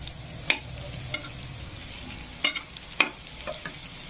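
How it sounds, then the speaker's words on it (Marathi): Colocasia (alu) leaves fry in a pan on a griddle with a soft, low sizzle, broken by a few sharp utensil clicks and stirring scrapes, close by and without speech. "कुंडीमधून काढलेले पानं तर मस्तपैकी असे तळत आहेत"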